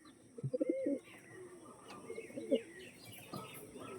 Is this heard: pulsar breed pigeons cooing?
yes